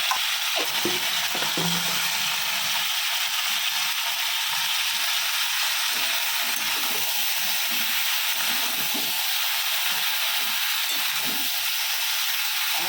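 Spices crackle and sizzle steadily in hot oil in a pan for Bengali vegetarian cooking, a continuous close frying hiss with small pops and faint clinks throughout, no talking.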